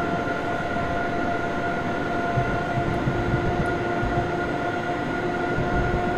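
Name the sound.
ICE train running in Train Simulator 2016 video game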